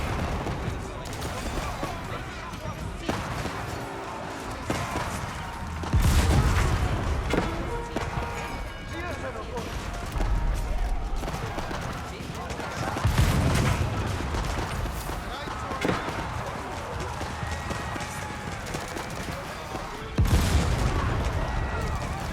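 Dense battle din from a strategy video game as Ottoman Janissaries fire their guns in urban terrain: overlapping volleys, booms and thuds run continuously, with heavier blasts swelling every few seconds.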